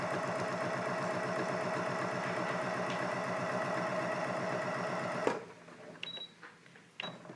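A Janome 6700p sewing machine runs at high speed, making a rapid, even mechanical chatter for about five seconds before it stops abruptly. A few faint clicks follow.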